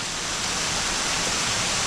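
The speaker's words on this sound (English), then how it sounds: "I do enjoy watching the rain come in" Rain coming in, a dense, continuous hiss of falling water, loud and steady with no voices.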